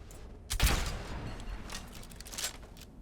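An arrow is loosed from a bow in Skyrim: one sharp, close burst followed by a brief lingering rush that fades back into steady game ambience.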